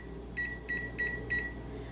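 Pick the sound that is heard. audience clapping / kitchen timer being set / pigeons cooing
kitchen timer being set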